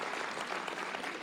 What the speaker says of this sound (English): So round of applause for John